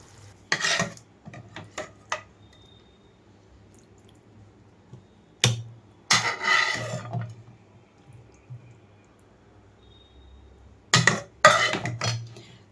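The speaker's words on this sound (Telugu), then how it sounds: "నేనైతే ఇంకా సర్వింగ్ బౌల్లోకి తీసుకుంటున్నాను." Tomato paneer curry is scraped and spooned from a pan into a serving bowl, with a few separate bursts of metal-on-metal clatter and scraping between quiet gaps, fairly close.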